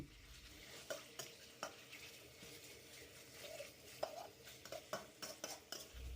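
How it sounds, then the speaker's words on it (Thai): Pork stir-fries in a wok for a Thai dish of garlic chives with fermented soybean paste: a quiet sizzle under repeated scraping and clanking of a utensil against the pan, with irregular louder strokes and no talking. "ผัดเนื้อหมูให้สุกดีเลย"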